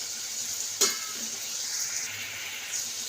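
Chopped methi greens go into a hot pan with turmeric, giving a sharp sizzling burst that settles into a steady, close frying hiss, with a faint scrape or two of stirring.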